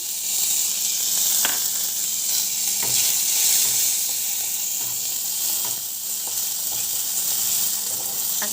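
Tomatoes and a spice paste of turmeric powder, salt and garam masala are cooked in a hot pan with very little oil for an aloo sabji, giving a steady loud sizzle with occasional stirring clicks.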